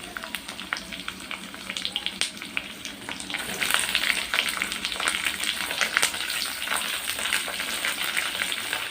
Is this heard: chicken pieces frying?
yes